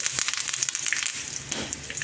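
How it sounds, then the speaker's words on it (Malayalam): Curry leaves dropped into hot coconut oil with popping mustard seeds, giving a close, continuous crackling sizzle with dense small pops, alone and without talk. "കടുക് പൊട്ടിയിട്ടുണ്ട് അതിലേക്ക് രണ്ട് കറിവേപ്പിലയും കൂടി ഇട്ട് കൊടുക്കുന്നുണ്ട്"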